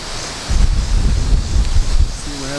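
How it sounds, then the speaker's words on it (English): Strong gusts of wind buffet the microphone outdoors beside an RV, heavy low rumbling surges that rise about half a second in and stay rough and uneven to the end. "we're having pretty windy days"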